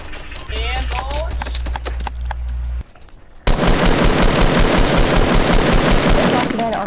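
Dense, rapid gunfire in a battle royale video game, with sustained automatic bursts of loud shots under excited player chatter and in-game noise.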